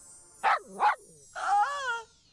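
A dog barks twice in quick succession, then lets out a longer whining, yelping bark, heard close and clear with no talking, as part of a radio advertisement for a psychic service.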